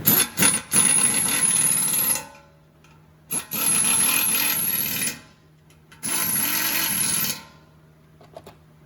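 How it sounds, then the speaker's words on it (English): A socket tool tightens a fastener during an assembly job, three loud bursts of whirring, rattling driving with a high whine, separated by quiet pauses, close by and without speech. "Now I'm tightening it with this same socket"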